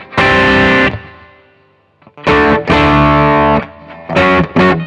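Overdriven electric guitar played through a Friedman BE-100 amplifier, loud chords and notes in bursts with a sustained ring, a pause, then several more strummed phrases with brief gaps.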